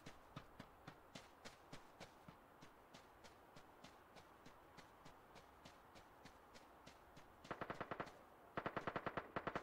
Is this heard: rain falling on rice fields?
no